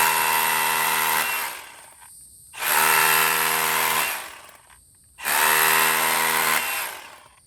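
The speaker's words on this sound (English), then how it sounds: "let's go drill 3 more holes" Milwaukee M18 FUEL SDS Plus rotary hammer drilling holes into the side of a house: two loud, sustained bursts of hammering drill noise, each about two and a half seconds, separated by a short pause.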